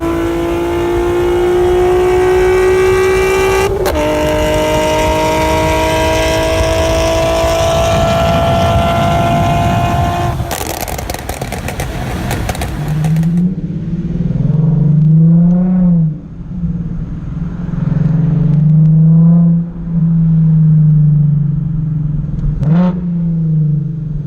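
A Nissan 370Z engine while driving: a loud, steady droning hum that shifts pitch with gear changes, then a deeper rumble that swells and eases repeatedly as the car accelerates and slows.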